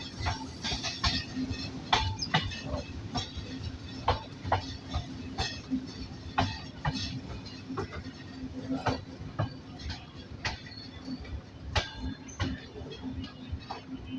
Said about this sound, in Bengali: টাঙ্গাইল জেলার মির্জাপুর রেল স্টেশনে অলমোস্ট প্রবেশ করে গেল আমাদের সিল সিটি এক্সপ্রেস ট্রেন।